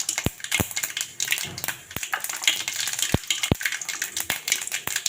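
Cumin and mustard seeds crackle and sizzle in hot oil on a gas stove while tempering a Gujarati dish, a steady close frying hiss broken by sharp, irregular pops spread across the whole stretch.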